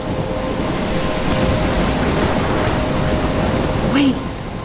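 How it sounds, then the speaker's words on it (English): Thunderstorm in the video game Life is Strange, with heavy rain roaring steadily and a low rumble of thunder swelling through it, loud and continuous, and a brief higher sound near the end. "I'm trapped in a storm?"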